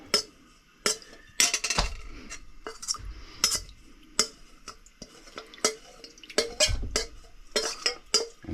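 Metal spoon scraping and clanking against a pot while stirring thick Tahitian chestnut starch, a run of sharp irregular scrapes and knocks, close and fairly loud, with brief pauses between strokes.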